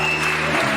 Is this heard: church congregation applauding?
yes